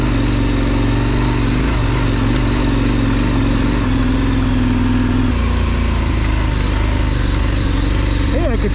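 A KTM 1090 adventure motorcycle engine drones continuously while riding off-road, a loud steady rumble that shifts pitch partway through under constant wind noise, with a voice faintly present.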